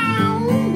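A single drawn-out, whiny meow, close and loud, rising and falling in pitch within a second, with no other sounds around it.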